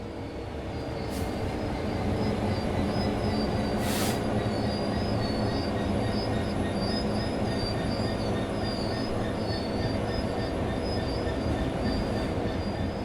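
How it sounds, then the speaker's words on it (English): A Train Sim World 3 video game train coasts steadily along level rails with a constant low rumble, a faint high whine and a few brief squeals of the wheels, with no voices. "The train will then coast on level ground, and the train will only slow down very gradually."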